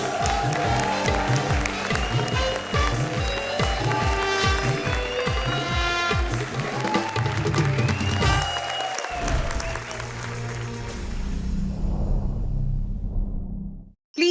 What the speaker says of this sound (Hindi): चलिए भारती और अभिषेक के लिए जोरदार तालियां प्लीज।